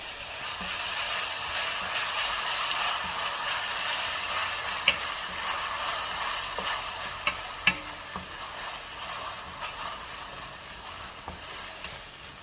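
Green chilli sambal chicken with prawn paste being stirred in a frying pan, a steady close sizzle with occasional spoon scrapes and clicks throughout, no talking.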